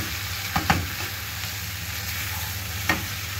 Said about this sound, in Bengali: খানিকটা সময় কষিয়ে নিচ্ছ নাকি?